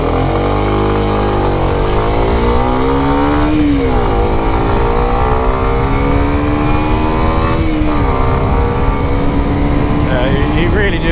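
A Kawasaki Ninja 125 motorcycle engine revving hard, its loud, close whine rising and falling through several throttle sweeps, with a rider speaking over it.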